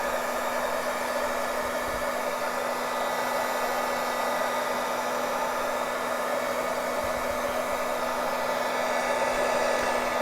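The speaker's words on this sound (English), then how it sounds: "what's hot is your heat gun, not the wax" A heat gun blows steadily at close range while melting wax onto a cover made from shipping materials, a constant airy whoosh with a faint hum and no pauses.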